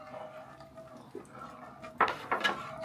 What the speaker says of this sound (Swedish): jag tar disken här då